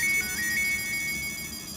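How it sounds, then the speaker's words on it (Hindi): A phone ringtone for an incoming call plays alone, a steady electronic melody with repeating high notes, fairly soft and continuous. "सोडी अंकल का फोन आ रहा है।"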